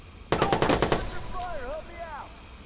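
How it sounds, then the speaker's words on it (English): Shotgun fire in the video game Watch Dogs comes as a loud, quick series of about seven shots close together, then gives way to wavering tonal sounds and a low background. "My dude over here is shooting me with a shotgun from all the way back there"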